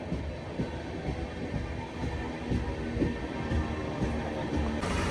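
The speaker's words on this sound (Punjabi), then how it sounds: "ਇਹ ਟ੍ਰੇਨ ਲਾਲ ਤੋਂ ਮਰਾਦਾਬਾਦ ਚੱਲਦੀ ਹੈ ਲੋਕਲ ਟ੍ਰੇਨ ਆ" A local train standing at Rampur Junction station produces a steady low rumble with faint clanks and platform noise, with no clear talk.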